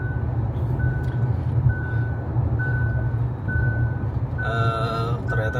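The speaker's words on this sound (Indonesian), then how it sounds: "dia akan ada notifikasi untuk pegang setir. Misal lama nih nggak megang nih, dia akan ngasih bunyi gitu" A Hyundai Ioniq 5's hands-off steering warning sounds as evenly spaced single beeps over road noise, then a louder, more urgent multi-tone chime near the end.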